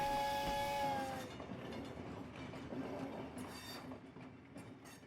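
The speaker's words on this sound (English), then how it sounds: "The Polar Express let out a loud blast from his whistle and sped off." Train whistle blast from the Polar Express, a steady tonal hoot lasting about a second over rumbling rail noise and clickety-clack of wheels that continues fading afterward.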